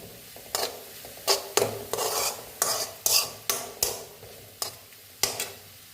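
Grated coconut being sautéed in a pan for ginger curry, a regular series of spatula scrapes and stirring strokes against the pan with light sizzle, close and without talk.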